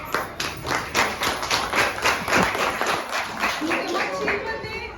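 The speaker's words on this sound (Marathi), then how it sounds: "सगळ्या महिलांसाठी ना थोडा टाळ्या वाजवायचे" An audience claps together at an International Women's Day lecture, a dense run of rhythmic applause lasting several seconds in a hall, fairly loud and close.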